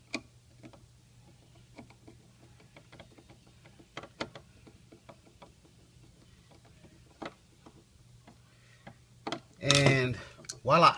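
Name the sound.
screwdriver screwing a screw into a Segal deadbolt lock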